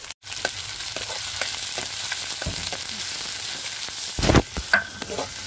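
Panch phoron spices frying in a hot pan while cooking mutton, a steady close sizzle throughout with a few louder crackling bursts near the end, no talking.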